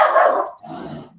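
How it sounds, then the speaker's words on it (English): A dog gives one short, loud, close bark followed by a lower growling trail, brief and clear with no talking. "That's my dog."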